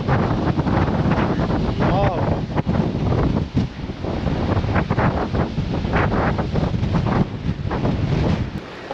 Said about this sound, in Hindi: समुंदर की लहरों की आवाज़ आप सुन सकते हो